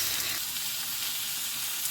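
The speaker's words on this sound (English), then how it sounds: "You fry the onions a little, then you can add in some" Chopped onions and tomatoes fry in a pan as the base for a chicken curry with coconut milk, giving a soft, continuous sizzle and crackle that runs steadily with nobody speaking.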